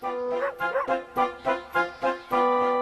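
A dog barks repeatedly in an even rhythm, about eight close, loud, tonal barks in quick succession.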